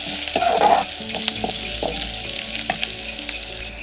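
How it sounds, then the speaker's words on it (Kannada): Onions frying in a pan until brown for chicken sukka, a loud close sizzle with a burst of stirring at the start and scattered scrapes and taps of a spatula against the pan, no voices. "ಈರುಳ್ಳಿನ ಫ್ರೈ ಮಾಡ್ಕೊಳ್ಬೋದು ತೆಗೆದು ಇದು ಬ್ರೌನ್ ಕಲರಿಗೆ ಬರಬೇಕು ಅದಕ್ಕೆ ಫ್ರೈ ಮಾಡಬೇಕು"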